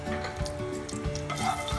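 Turmeric (haldi) sizzling in hot oil in a pan while cooking dhaba-style paneer, a steady close crackle with soft stirring scrapes and no talking.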